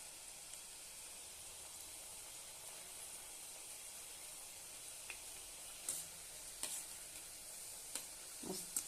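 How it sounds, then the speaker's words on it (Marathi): Rice flour chips fry in hot oil with a soft, steady sizzle, and a few faint clinks and stirring sounds come through near the end. "छानपैकी आपण तळून घेऊया."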